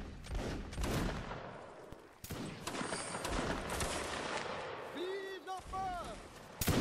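Musket volleys crackle through a video game battle with Highlanders, irregular bursts of shots near and far, a voice speaking over them.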